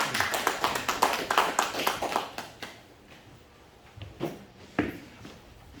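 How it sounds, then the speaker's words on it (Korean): Hands clap in a quick, steady rhythm to welcome a pastor at a church gathering, loud for a few seconds and then thinning to a handful of scattered claps and taps. "우리 박수로 환영하겠습니다"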